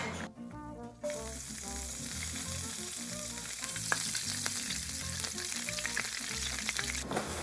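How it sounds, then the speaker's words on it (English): Shrimp fry in a hot pan with a steady, loud sizzle that runs without a break, under a layer of background music and with no talking. "Next, I'm gonna put the shrimp in there."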